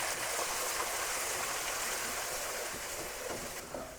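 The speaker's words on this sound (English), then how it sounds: "The wine's come to a nice boil." Two cups of white wine boil in a pan for a clam sauce with toasted linguini, giving a steady, close hiss of bubbling and sizzling that runs without a break.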